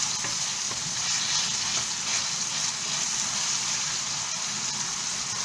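Vegetables for ackee and saltfish frying in a pan over a lowered flame, giving a continuous even sizzle with faint stirring scrapes, close and steady, with no speech.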